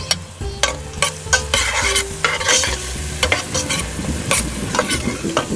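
Garlic, ginger and chilli frying in spices for a home-cooked chicken curry, a loud close sizzle with busy stirring, clicks and scrapes against the pan throughout and no talking.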